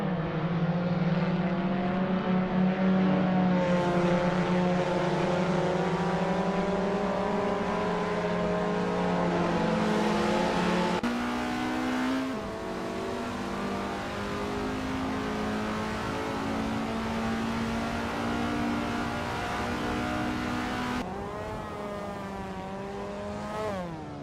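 Group 2 race cars lapping at Feldbergring, several engines roaring loud and close with rising and falling revs, overlapping continuously as cars pass.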